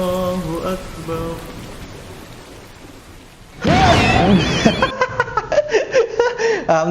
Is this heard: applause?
no